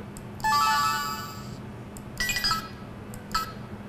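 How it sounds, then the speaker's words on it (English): An EZ-B v4 Wi-Fi robot controller plays its identify sound: a bright electronic chime tone, then two shorter chirping tone bursts, clear and close against quiet room noise. "We can click on the Identify button to produce a sound on the EasyBee V4 to identify which one we've connected to."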